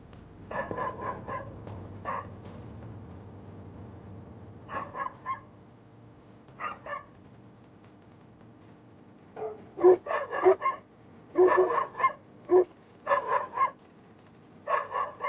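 Bursts of dog barking, some distant and some closer, arriving in irregular clusters separated by quiet gaps over a low background hum.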